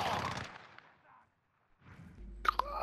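A short burst of gunshots in Call of Duty: Modern Warfare, sharp cracks at the start that fade into near silence, followed by a few faint scattered shots and game sounds.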